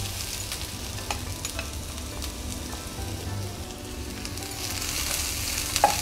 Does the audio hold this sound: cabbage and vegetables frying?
yes